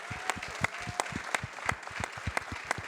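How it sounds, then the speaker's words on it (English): Audience applause rings out for attorney Ben Crump at a national panel discussion on equal justice, a steady patter of many hands clapping together, fairly distant and even throughout. "Ben Crump, a round of applause?"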